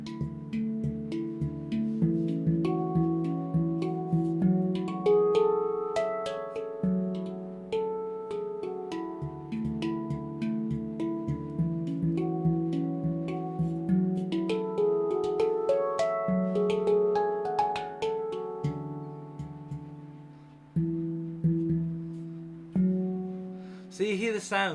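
A Meridian F Low Pygmy handpan played solo, with ringing melodic tones struck in a flowing rhythm, each note sustaining and decaying into the next over a long, unhurried phrase.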